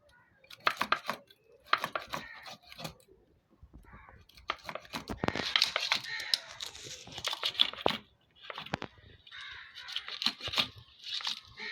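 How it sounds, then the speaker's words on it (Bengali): A knife chops and scrapes through fish on a board as it is cut into chunky pieces for a Bengali tomato fish curry, irregular bursts of cutting and crunching, close, with a person talking in between. "আমি এখন মাছটা কেটে নেব। এইভাবে চাক চাক করে পিস করে নেব।"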